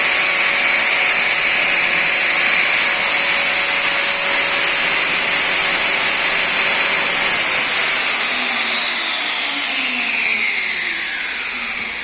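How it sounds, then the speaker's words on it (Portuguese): A loud, steady electric motor whine with a harsh grinding hiss from an electric sander runs continuously from a close source, easing slightly toward the end. "E só ficou mesmo a lixadeira, né?"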